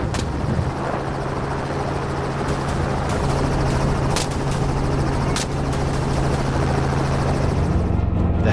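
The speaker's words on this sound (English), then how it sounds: "The helicopter veered in, closing the distance to give us a clear shot." Helicopter rotor drone, loud and constant throughout, with a few sharp gunshot bangs cutting through, over a freshly harvested field during a wild boar hunt.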